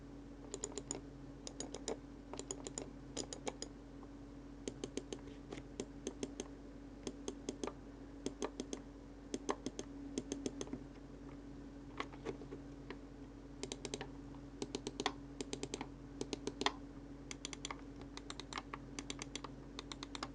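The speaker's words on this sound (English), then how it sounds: "let's go ahead and take you to the click test." A budget Eluktronics Luminosa gaming mouse with Huano switches gives crisp, close clicks in quick clusters and steady runs of taps over a quiet room, with no talking.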